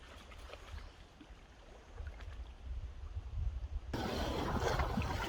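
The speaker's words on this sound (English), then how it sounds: "We got some really nice winds right now" Wind rushing past a sailboat with its jib out, a steady roaring buffet of air that swells and becomes louder and fuller toward the end, with no talking.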